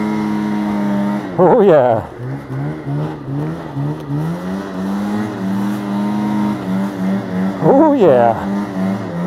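A Ski-Doo Summit Neo+ snowmobile revs hard while climbing a small hill, its engine rising and falling in pitch with two sharp surges, loud and close, as a rider exclaims over it.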